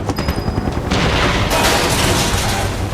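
Gunfire in Final Fantasy VII Remake, a dense loud volley of shots and blasts that grows into a sustained roar of rapid fire.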